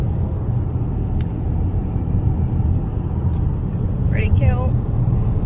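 A car drives along a tree-lined road near Loch Lomond in Scotland, its steady low road rumble filling the cabin while a person speaks briefly over it.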